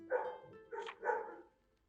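A dog barks three times in quick succession at moderate distance, short hoarse woofs separated by brief gaps, then falls silent.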